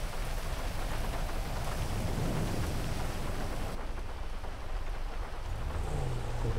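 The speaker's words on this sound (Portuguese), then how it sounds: "bora daqui que tá chovendo pra caralho" Heavy rain pours steadily in the GTA 5 video game, a dense hiss of drops on surfaces with low thunder rumbling underneath, continuous and moderately loud with no speech.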